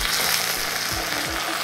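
Dried red chillies and curry leaves frying in hot oil for temple-style pulihora, a loud, close, unbroken crackling sizzle with a few low scraping thuds as the pan is stirred.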